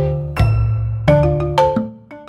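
A notification bell chimes three times in quick succession, bright ringing tones with long sustaining overtones, followed by a softer fourth ding, loud and clear with no talking.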